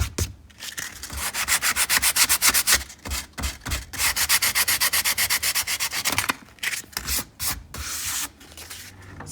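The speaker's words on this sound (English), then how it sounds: "So we decided to break out the power sander" A power sander works over a cardboard picture frame in rapid repeated strokes, a loud rhythmic rasping that pulses steadily, pauses briefly, then resumes in shorter bursts.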